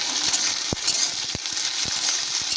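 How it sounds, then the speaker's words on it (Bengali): Ginger-garlic paste with green chillies fries in a pan with a steady broadband sizzle, broken by a few sharp utensil taps as it is stirred, close and fairly loud with no talking. "চামচ মতন আদা রসুন বাটা দিয়ে দিলাম দিয়ে দেয় এটাকে একটু কষাতে থাকবে"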